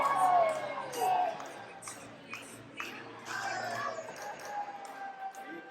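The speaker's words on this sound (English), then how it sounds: "the crowd in the Music City is just electric" A crowd cheers and shouts at a CCW Luchamania 3 lucha-style wrestling event in Nashville, with scattered whoops and yells rising and falling under a steady murmur of voices.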